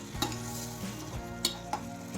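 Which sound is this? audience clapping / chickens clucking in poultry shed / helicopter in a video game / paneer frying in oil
paneer frying in oil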